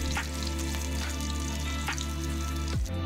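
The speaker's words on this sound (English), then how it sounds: "as your meat is frying" Continuous crackling sizzle of venison frying in hot oil, steady throughout with small pops.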